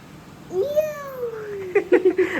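A small child imitates a cat's meow with a drawn-out, close, falling mewing cry, followed by a few short voiced syllables like playful babble.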